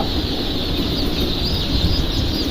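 Native deshi chickens and chicks at a hatchery make a dense, continuous chorus of clucking and high peeping, loud and close with no clear pauses.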